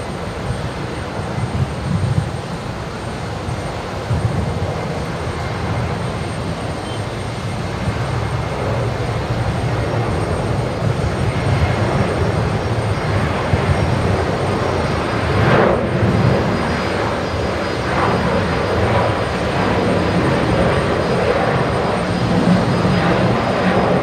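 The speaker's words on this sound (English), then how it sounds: "that Virgin 73 has now lined up. It is rolling from the Alpha 3 intersection." A Virgin jet rolls down the runway on its takeoff run at Brisbane Airport, its engine roar building into a loud, steady, broadband rush that continues the whole time with no voices over it.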